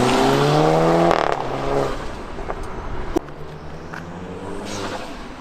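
A turbocharged Audi B8 A4 with a diverter valve spacer and a turbo muffler delete revs, then lifts off with a fluttering chatter as the revs fall away, followed by a sharp click and a quieter idle.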